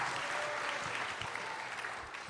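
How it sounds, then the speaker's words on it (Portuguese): Church audience applauding a couple invited on stage, a steady, dense burst of clapping from a crowd that slowly eases off toward the end. "Salva de palmas, gente"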